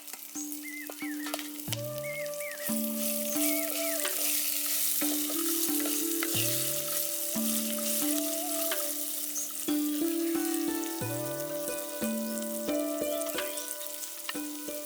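Peanuts and chopped red and green chillies frying in a pan, with steady close sizzling, repeated stirring scrapes and a few splashy water-like sounds, no talking.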